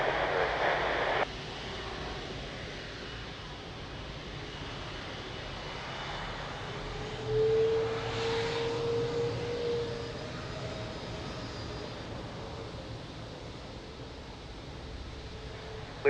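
An airplane at Lisbon Airport gives a steady, broad engine roar in the distance, swelling slightly midway as the aircraft passes and then settling back into a continuous drone, with no voices.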